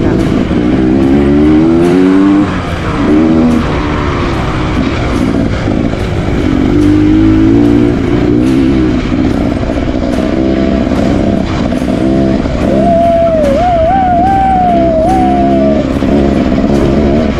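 A two-stroke trail motorcycle engine revs loudly and close by, rising and falling in pitch through repeated throttle blips, with a sustained high whine near the end.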